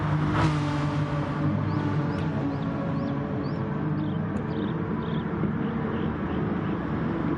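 Renault Mégane Trophy race car in a racing video game, engine screaming at full revs in a continuous loud drone, with brief rising whines from other cars layered over it.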